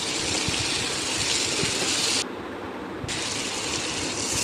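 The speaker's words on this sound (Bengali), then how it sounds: "এখন কিছু পরিমাণ মতো গরম পানি দিয়ে দিলাম।" Hot water gushes steadily into a cooking pot of potato, pointed gourd and prawn curry, loud and continuous, easing slightly near the end.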